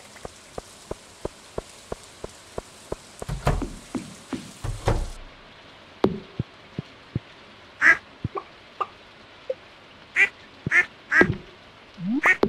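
Ducks quack on a farm in the Stardew Valley video game: several loud, separate quacks come in the second half, after a steady run of light ticking and tapping. No one speaks.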